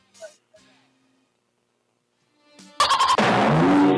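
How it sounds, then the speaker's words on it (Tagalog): A loud burst of poultry calling, a rooster crowing or chickens squawking, bursts in suddenly near the end after brief faint talk, harsh and close for the last second or so. "Manok."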